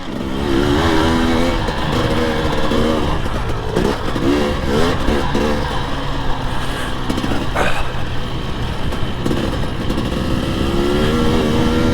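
KTM 300 XC-W TPI two-stroke dirt bike engine revving and riding, loud, raspy and continuous with rising and falling throttle blips close to the microphone.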